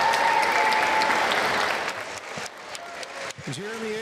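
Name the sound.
crowd applauding after national anthem at high school basketball game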